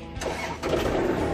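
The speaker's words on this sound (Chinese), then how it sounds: "那我们现在发动车子" A Kubota GL series tiller engine cranks and catches, a brief mechanical churn rising into a steady running rumble, close by with no talking.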